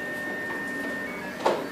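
Whirring stepper-motor hum from a MakiBox 3D printer moving its head while printing, a steady thin tone with a brief louder mechanical clunk near the end.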